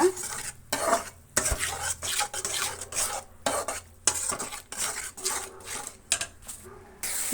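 Water apple halwa stirred and fried in a pan, a spoon scraping in rhythmic bursts with brief pauses, soft sizzling underneath and occasional metallic clinks.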